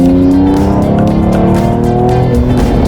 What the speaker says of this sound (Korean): 네, 배기 지금 켜놨어요. 스포츠 플러스 모드고요.